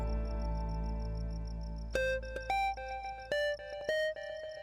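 A mobile phone ringtone plays a bright electronic melody of short repeated beeping notes in quick rhythmic bursts, fairly faint over a low background hum, in a domestic scene.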